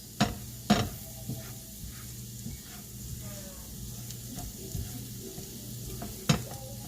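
Garlic sizzling in butter in a pan for garlic butter shrimp, a steady frying hiss with occasional louder clinks and stirring scrapes, no talking.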